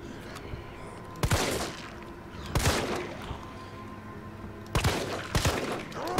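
Gunfire from shooting zombies in Resident Evil 3, heard as a few separate loud bursts of shots spaced a couple of seconds apart over a steady in-game ambience.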